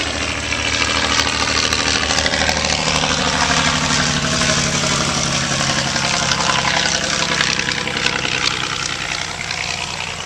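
A Fokker D.VII biplane's piston engine runs steadily and loud up close, a continuous rumbling drone with a strong throbbing low end that holds even throughout.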